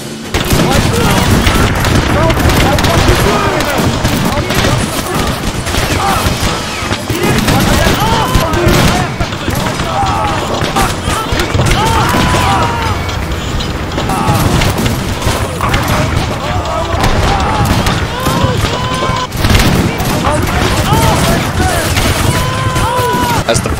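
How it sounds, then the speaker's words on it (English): Battle gunfire erupts in a vicious firefight at Derna, with dense, loud bursts of rifle and machine-gun fire and heavy booms overlapping continuously, chaotic and close, with shouting voices mixed in. "Loyalist forces rushed out to defend, and a vicious firefight ensued"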